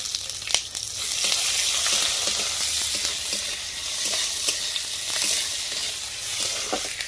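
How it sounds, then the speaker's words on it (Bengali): Dried red chillies, cumin and onion sizzle steadily in hot oil, with a continuous hiss and occasional stirring clicks and pops throughout, with no one speaking. "মশলাগুলো ভাজা হয়ে গেছে।"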